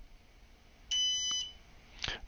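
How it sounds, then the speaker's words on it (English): An electronic RFID lock controller gives a sharp, high-pitched tonal beep lasting about half a second, followed a moment later by a shorter, fainter blip against a quiet background hum. "we heard that little beep"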